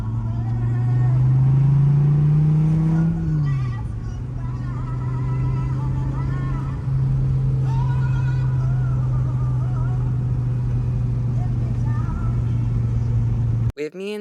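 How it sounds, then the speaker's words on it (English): Dodge Viper sports car driving in West Hollywood, its engine a loud steady low drone heard from nearby, rising briefly as it revs and then cruising on, with a voice talking over it. "He has a Viper and it just sounds so great."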